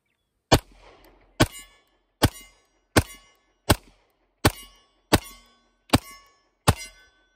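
Nine sharp gunshots from 9mm and .45 ACP pistols firing hollow-point rounds ring out one by one at a steady, unhurried pace, each a loud crack with a short ringing tail.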